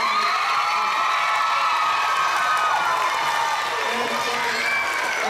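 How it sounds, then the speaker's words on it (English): A school assembly crowd, children among them, claps, cheers and whoops for jazz drummer Winard Harper in a dense, steady roar that holds loud throughout, with voices shouting over the din. "So, one more round of applause for Mr."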